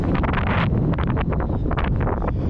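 Steady, heavy wind buffeting a microphone outdoors, a loud continuous low rumble with gusty bursts throughout.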